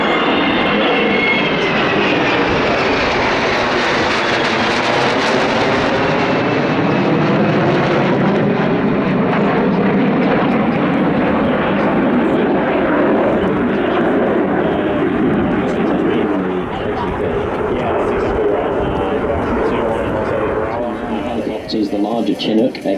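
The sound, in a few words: military aircraft flying and landing at Avalon air show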